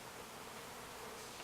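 Honey bees buzzing around a top bar hive, a faint, even hum that stays constant throughout with no speech.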